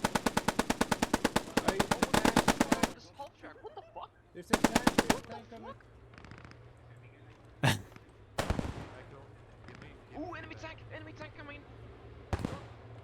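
Rapid volleys of rifle and machine-gun fire from Enfield rifles and Bren guns in the Post Scriptum war game, a dense burst then scattered single shots near and far, with voices talking between them.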